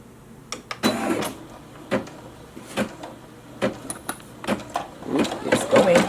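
A Brother SE600 embroidery machine starts running, giving irregular mechanical clicks and whirring bursts up close, while a person talks over it.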